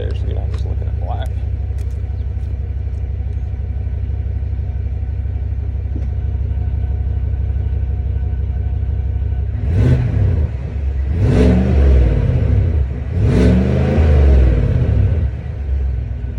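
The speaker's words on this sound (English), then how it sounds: "I'll hit the throttle a couple times so you can hear" A 2022 Chevrolet Silverado ZR2 engine idles with a low rumble, then revs three times in quick bursts, each rising and falling back to idle.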